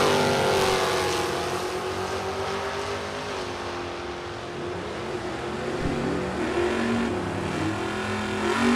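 Drag race cars at a bracket and index racing event, including a blue 1969 Chevrolet Camaro and a 1967 Chevrolet Camaro, roar in a loud, sustained launch with engines revving hard the whole time.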